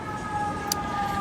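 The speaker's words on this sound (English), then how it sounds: "now we're gonna have a siren." An emergency siren wails steadily in the background, a sustained tone heard alone at moderate loudness with a brief click partway through.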